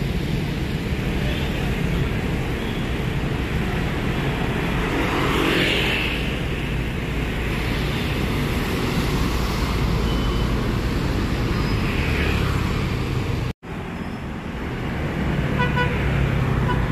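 A bus engine roars as it pulls away along a busy road lined with queuing buses, with traffic noise throughout and a short horn toot in the middle.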